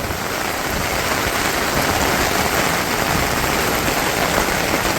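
Heavy rain pours down steadily in a village, a dense, continuous roar close by with gusting wind mixed in and no pauses or voices.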